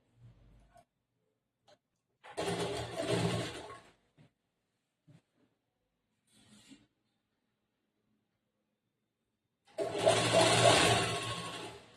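A sewing machine stitches along the edge of a long umbrella frock in short separate runs: one burst lasting about a second early on and a longer run near the end, with quiet pauses and small clicks between them.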